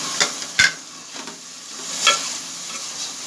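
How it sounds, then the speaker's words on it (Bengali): Chicken stir-fried with already-fried onions and salt for tehari, close spatula scrapes and stirring clatter over a steady soft sizzle, with a few sharper knocks against the pan. "এবার চিকেনটা দিয়ে একটু কষাবো"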